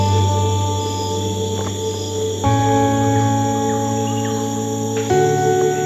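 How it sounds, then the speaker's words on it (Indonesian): Tropical rainforest ambience in Kutai National Park, East Kalimantan, with a dense, continuous drone of insects and birds calling throughout, steady and full, with no voices. "Masih banyak suara-suara hutan, suara-suara burung di sini."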